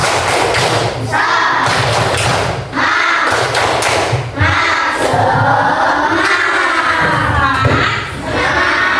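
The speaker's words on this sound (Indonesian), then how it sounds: "Coba tepuk semangatnya dulu. Tepuk semangat." A classroom group of students performs a rhythmic cheer clap, repeated bursts of loud, thumping claps in a set pattern with short pauses between, mixed with voices shouting along.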